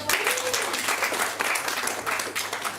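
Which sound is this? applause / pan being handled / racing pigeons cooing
applause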